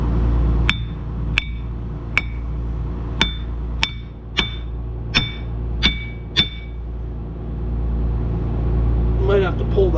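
A hammer taps on hub parts of an old Mack R Model truck, giving about nine sharp metallic strikes with a ringing tone, spaced roughly half a second apart over a low steady background rumble.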